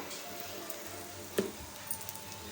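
Lentils dry-roasting in a pan as asafoetida is added give a faint, steady sizzle with a few soft clicks and pops, quiet and close.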